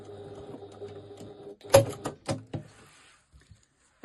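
Sewing machine back stitching across a zip bag: a few short clattering stitch bursts and knocks in a quiet room, then near silence.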